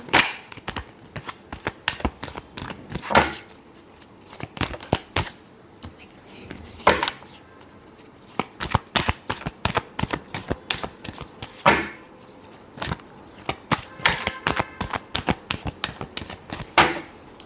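Tarot cards being shuffled by hand, a long run of crisp, close riffling flicks and slaps in uneven bursts with no voice.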